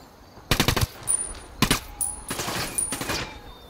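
Gunfire in the video game Ghost Recon Wildlands: several short bursts of rapid automatic shots, sharp and fairly close, separated by brief pauses, with no talking over them.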